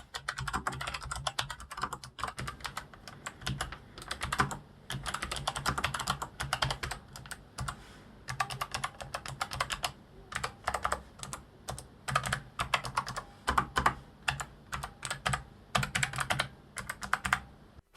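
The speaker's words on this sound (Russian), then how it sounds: "предлагаю вам послушать, как звучит данная клавиатура" Steady, rapid typing on an MSI Vigor GK50 Low Profile TKL mechanical keyboard, soft low-profile key clicks in continuous bursts with brief pauses, close by with no voices.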